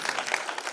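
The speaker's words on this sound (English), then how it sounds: "Can we have a round of applause, please?" Brief patter of audience applause at a healthcare technology conference session, steady and moderately loud, lasting under a second with no voices over it.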